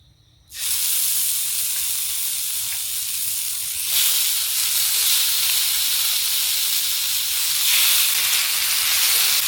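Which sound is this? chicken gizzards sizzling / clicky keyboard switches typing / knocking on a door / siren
chicken gizzards sizzling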